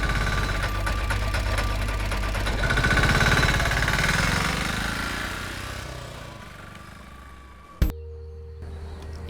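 A vehicle engine runs loudly at a steady idle, its rumble swelling and then easing off, ending in a sharp click and a quieter hum.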